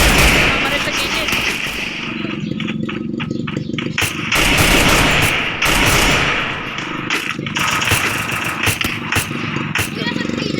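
Rapid bursts of gunfire aimed at a drone in the Free Fire video game, loud and repeated in clusters, mixed with game effects while players talk over the shooting.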